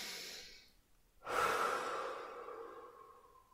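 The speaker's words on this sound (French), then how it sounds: "Vous respirez profondément, plusieurs fois" Slow, deep human breath during a guided sophrology relaxation session: a long, close exhalation swelling in after a quiet pause and trailing off gradually, with no talking.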